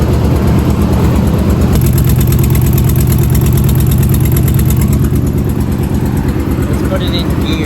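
A Ford Expedition engine runs rough and shaky, a steady close rumble with an uneven, pulsing idle that persists throughout, with some faint background noise.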